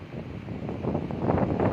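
Wind gusting outdoors in rural Roi Et province, Thailand, a steady rushing roar that swells louder toward the end, with no voices.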